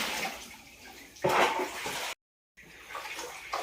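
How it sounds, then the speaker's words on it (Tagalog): Floodwater pours and rushes during a typhoon, a close, loud splashing gush that swells midway, cuts out briefly, then resumes at a lower level. "Tapos biglang bumuhos po ang baha."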